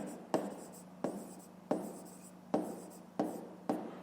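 Pen or pencil writing by hand on paper while working a fifth-grade math exercise, heard as five or six close scratchy stroke bursts, each starting with a sharp tap and trailing off, with no talk.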